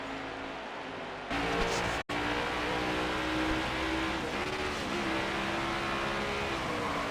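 NASCAR-style race car at New Hampshire roars at steady high revs as the driver shifts up into fifth gear, with a brief cut in the engine note during the shift before the loud, sustained drone resumes.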